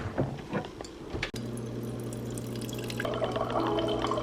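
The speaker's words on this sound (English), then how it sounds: "I'm gonna get myself a nice big glass of water because I need to rehydrate." A big drinking glass fills with water from a tap, a steady close pour whose pitch rises as the glass fills, with a short clink near the start and no voices.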